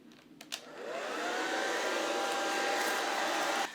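A bonnet hair dryer runs steadily with a soft, continuous whooshing airflow that starts up after a couple of brief clicks and holds level until it cuts off near the end, with no talking.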